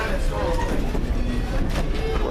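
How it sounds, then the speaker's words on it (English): A passenger train on the Strasburg railroad rolls into the station: a steady low rumble with faint squeal and rattle throughout, fairly loud, with indistinct background chatter. "Now pulling into the station after that train ride,"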